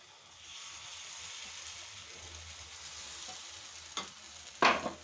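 Appam batter hitting oil in a hot pan gives a steady soft sizzle, close and low, ending in a couple of brief louder clatters of utensil against the pan.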